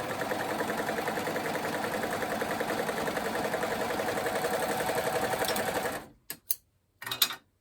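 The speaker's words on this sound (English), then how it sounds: "I'm going to overlock straight across that" An overlocker stitches straight across the shoulder seam of a top, running in a fast, steady mechanical chatter for about six seconds before stopping, followed by a few short bursts.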